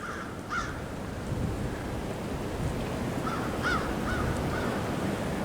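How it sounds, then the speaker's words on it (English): Several crows caw outdoors along a trail, calls scattered in short bursts at mid distance over steady wind and a broad rushing background. "Some crows started crowing."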